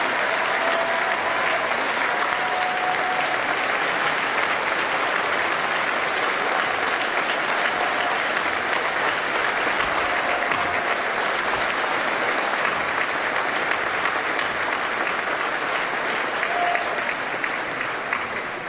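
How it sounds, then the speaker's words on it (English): Sustained, dense applause from a large audience honoring city employees at a mayor's State of the City address, steady and fairly loud throughout with no speech over it. "If you will join me in applause, these outstanding city employees."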